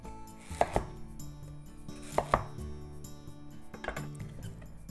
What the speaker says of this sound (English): It's about 15 centimeter, and let's cut it into 3.